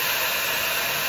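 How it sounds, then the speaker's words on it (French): An Iron hair dryer blows at close range, a loud, steady whooshing hum of air and motor that holds unchanged throughout with no voices. "il fait un bruit comme tous les autres sèche-cheveux"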